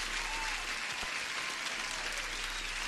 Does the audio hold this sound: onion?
no